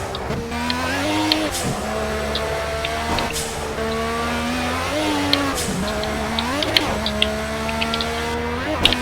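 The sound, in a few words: race car braking in Project Cars video game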